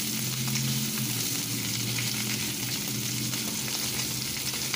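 Mexican-style bacon-wrapped hot dogs fry on a griddle over medium heat, giving a steady, dense sizzle and crackle that holds evenly throughout with no talking.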